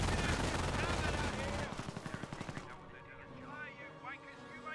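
An MG42 machine gun fires from a garrisoned building in Company of Heroes, a dense rapid rattling burst up front, then a few distinct spaced shots and lighter distant gunfire trailing off.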